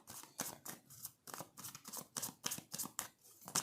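Tarot cards slap and flutter down in quick succession while being drawn from a deck, a close, crisp run of papery clicks and flicks with no talking.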